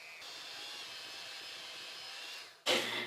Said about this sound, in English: I'm just going to cream everything together with my hand mixer.